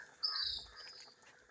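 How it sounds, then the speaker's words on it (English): Birds call near an outdoor kitchen in rural Jamaica, a few quick high chirps close by in the opening half, then fading into faint background noise. "Whenever time I am cooking, the bird them smell me food and come out."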